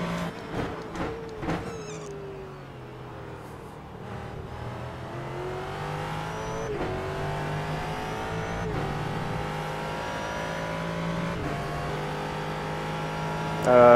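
A Ford GT3 race car at the start of a race at Twin Ring, its engine droning close and loud, pitch climbing through several gears in rising sweeps with brief drops at each shift.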